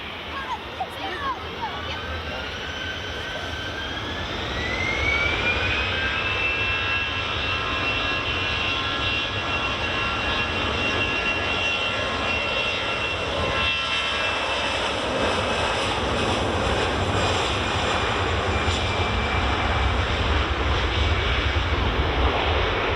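An aircraft departs runway 24 at Edinburgh Airport, jet engines rising in a high whine then settling into a loud, sustained roar that holds near and steady for the whole stretch.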